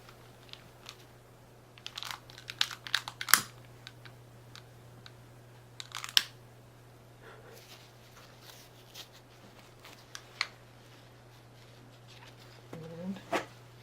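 Soft, scattered crinkles and rustles of fabric as the edges of a hi-vis dog vest are folded under, with a few louder handling taps over a steady low hum.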